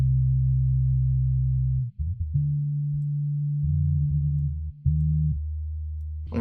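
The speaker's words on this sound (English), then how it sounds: "make it mono, include only the lows, and we can create our own separate bass channel." Mono low-only bass layer split from a melody sample in FL Studio: deep sustained sine-like bass notes stepping between pitches, smooth and loud with brief gaps, playing alone.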